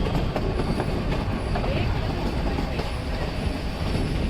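Nilgiri Mountain Railway toy train rolling from Mettupalayam up to Ooty, a steady close rumble of carriages with faint rhythmic wheel clatter throughout, no talk.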